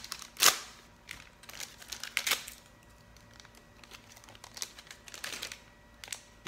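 A sealed plastic pack holding a Dell desktop hard drive is popped open, giving a few sharp, close snaps and crinkling clicks scattered over several seconds.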